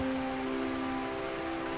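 Steady rain falls in a horror animation scene, an even, continuous hiss of drops with a faint low hum beneath, with no voices.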